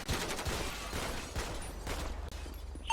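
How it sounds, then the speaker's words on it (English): Rapid gunfire erupts during a police shooting, a dense fusillade of close, loud shots with sharp bursts that repeat across the whole span and barely let up, with no talk over them. "Shots fired."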